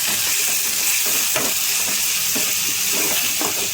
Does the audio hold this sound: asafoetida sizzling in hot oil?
yes